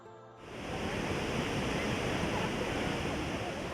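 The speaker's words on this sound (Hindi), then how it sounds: "इस समय मैं हूँ भेड़ाघाट के धुआंधार वाटरफॉल्स के पास" The Dhuandhar waterfall at Bhedaghat, where the Narmada river crashes onto marble rocks, gives off a loud, constant roaring rush that swells in after a brief quieter moment and holds steady throughout.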